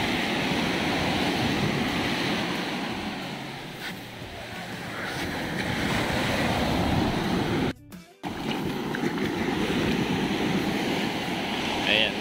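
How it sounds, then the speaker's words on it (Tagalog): Ocean waves roll and crash onto a beach on a clear morning at a resort in Bagac, Bataan, a continuous loud surf roar with some wind, close by, with one brief dropout partway through. "Lakad-lakad muna kayo sa beach habang pinapanood yung mga hampas ng alon."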